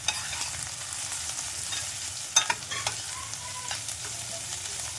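Onion hitting a pan of browned garlic over high heat, a loud steady frying hiss with a cluster of sharp clatters from stirring midway, no talking.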